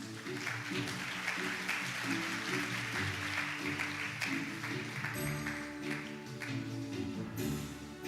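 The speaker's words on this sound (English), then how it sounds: "please welcome him with a big round of applause" Audience applause welcoming the keynote speaker, the Chair of the OECD DAC, at an international development aid conference in Seoul: steady, sustained clapping from a large hall that fills the whole stretch over a low tonal hum.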